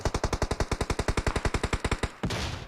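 Automatic gunfire in the video game PUBG Mobile: a rapid, even burst of about twenty loud, close shots over two seconds, ending in a sharp blast and a trailing rush of noise.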